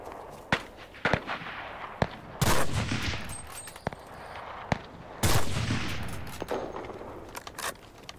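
Gunfire in the battle royale game Cuisine Royale: sharp single shots spread irregularly across the clip, with two heavier, longer bursts that sound like volleys. No one talks.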